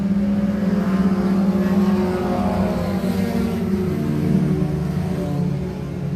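Race cars roar past at a speedway restart, a sustained loud engine drone with shifting pitch as the field accelerates, steady throughout with no talk.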